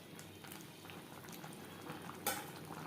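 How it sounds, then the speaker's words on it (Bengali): Bottle gourd simmering with its own released water in a pan while being stirred for a Bengali lau chingri dish: a soft, steady bubbling hiss with faint scraping and one brief utensil clink near the end. "এভাবে একটু নাড়াচাড়া করে দেব।"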